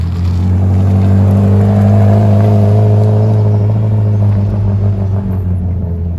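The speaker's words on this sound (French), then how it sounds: "voilà la F40 qui s'en va avec la Carrera GT qui reste" A Ferrari F40 with a V8 engine pulls away on a Paris street, producing a loud, deep, rumbling exhaust drone that builds briefly then fades slightly as it moves off, close and without speech.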